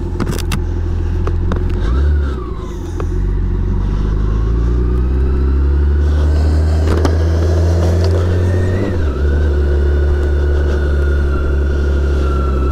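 A BMW K1600 GTL motorcycle ridden on a road before dawn, its engine a loud, steady drone heard close from the bike, with the pitch dipping and rising through gear changes and speed shifts.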